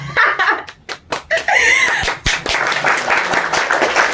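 Hands clapping in applause at a family quiz game, a burst of several quick claps followed by sustained clapping mixed with cheering voices and excited shouts.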